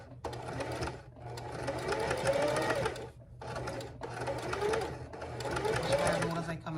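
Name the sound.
sewing machine stitching a backstitch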